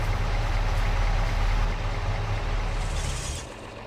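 A truck engine idles with a low, heavy rumble, then winds down and fades as it is shut off in the final moments.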